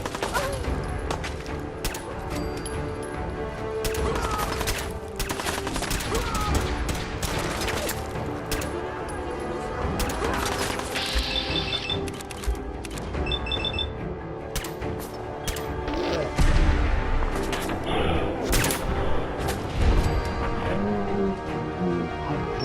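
Grenade explosions and rapid gunfire in a Fallout 4 firefight, dense continuous volleys of shots with intermittent heavier blasts, loud and close throughout.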